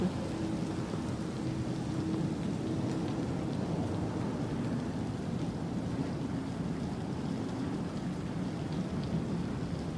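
Steady rain falling with a constant, even hiss that never lets up, heard alone with no voices.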